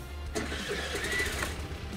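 A Suzuki Avenis 125 scooter engine cranks and catches with a brief whirring start, then runs at a low, rough idle close by.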